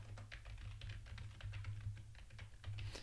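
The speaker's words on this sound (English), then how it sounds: "I'll go ahead and type something in for that." A computer keyboard being typed on while entering a root password during a server setup: a quick, irregular run of light, crisp keystrokes, fairly quiet, with no voices.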